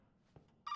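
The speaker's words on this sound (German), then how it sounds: "Oh, Telefon!" An old telephone ringing in the horror game Resident Evil 7: a loud, sudden electric bell burst that cuts in near the end after a quiet moment.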